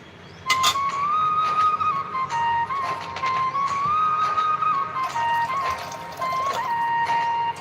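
A pressure cooker whistling over high gas flame while basmati rice cooks, a sustained tonal whistle that wavers slightly in pitch and runs almost continuously for several seconds, with hissing steam and faint kitchen clatter beneath.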